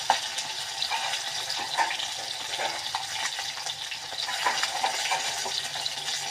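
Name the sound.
fish frying in a pan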